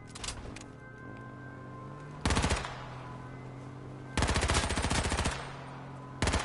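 Automatic gunfire from the video game H1Z1 comes in two loud sustained bursts of rapid shots, the first about two seconds long and the second about three, with steady engine-like drone and game noise between them.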